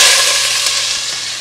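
Loud, close sizzling in a hot pan, a bright continuous crackling hiss that fades slightly toward the end, no voices.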